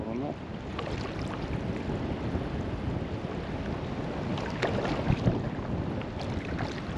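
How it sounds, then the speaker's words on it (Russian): Strong wind buffets the microphone with a constant low roar while rafting down the Ambler River, water splashing beneath and brief voices breaking through now and then. "Ветер такой сильный довольно стал."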